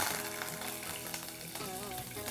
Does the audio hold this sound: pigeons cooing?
no